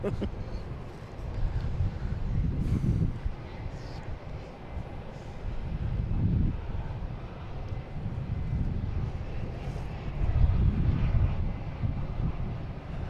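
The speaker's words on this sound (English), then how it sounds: "Next coming in is American Airlines, coming in from Phoenix." An American Airlines airliner arriving from Phoenix at Boston Logan International Airport gives a steady low engine rumble with wind buffeting the microphone, swelling in places while people talk over it.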